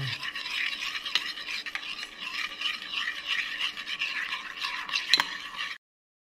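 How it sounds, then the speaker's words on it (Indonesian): Batter mixed with grated cheese, salt, sugar and pepper is stirred steadily for several seconds, a continuous close scraping and swishing of utensil against bowl, then stopping abruptly. "Ini diaduk hingga merata."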